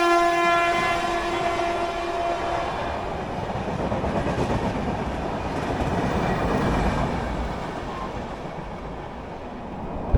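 Puri local train pulling into a platform, a long sustained horn blast at the start giving way to the rumbling, clattering roll of coaches passing steadily close by.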